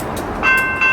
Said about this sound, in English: Careful, the train is coming.